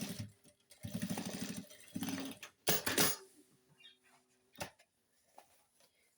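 A sewing machine stitches a suede pouch in several short bursts of rapid mechanical whirring, loud and close, separated by pauses with light handling noises.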